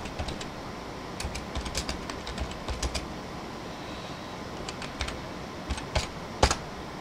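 Keys clatter on a computer keyboard as a chat message is typed into a Zoom meeting, with irregular bursts of clicks and short pauses, fairly close and without any talk.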